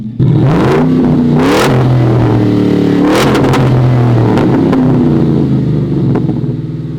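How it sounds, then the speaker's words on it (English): A loud Ford F-150 pickup engine revs up and down several times, heard from inside the cab, with a deep rumbling exhaust that swells and falls. "you guys wanna hear the exhaust from the inside."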